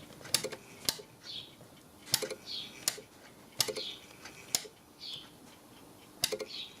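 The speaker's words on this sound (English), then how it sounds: "You hear the little solenoid in there that stops the escapement once the motor's on." An L&G timeswitch ticks inside as its solenoid catches the escapement, giving sharp regular clicks about every half second, each paired with a faint soft whirring chirp, close and quiet.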